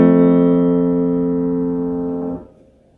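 Two piano strings of a unison struck together during a tuning check, a steady sustained tone with closely matched pitches that rings evenly for over two seconds and then is damped off abruptly.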